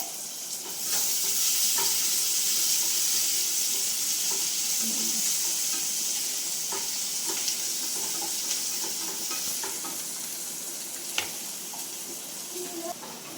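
Green chillies sizzle in hot oil in a pan for a spinach thoran, producing a loud, continuous frying hiss close by, with light stirring and occasional scrapes.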